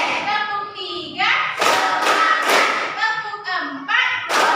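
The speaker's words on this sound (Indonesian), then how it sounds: "Tepuk 1, tepuk 2, tepuk 3," Schoolchildren in a primary classroom clap a counted rhythm pattern, with bursts of loud group claps breaking through children's voices chanting along in the room.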